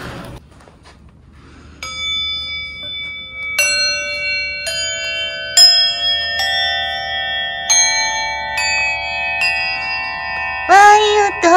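A Buddhist altar bell (orin) from a Kyoto household altar, struck about six times at a steady pace, each strike ringing out in a long, bright, shimmering sustain that overlaps the next, close and clear, with a brief clatter at the end.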